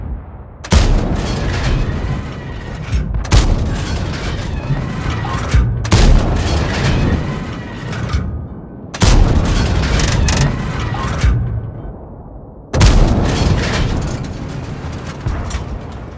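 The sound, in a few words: gunfire from a gun in the video game Steel Hunter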